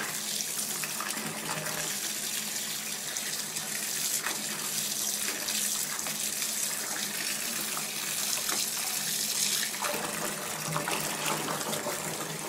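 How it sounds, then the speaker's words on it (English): Steady running water splashes and churns in a bathtub as it is mixed by hand, a continuous rushing wash with no voices. "you just gotta mix up your water because otherwise it'll settle at the bottom of your tub"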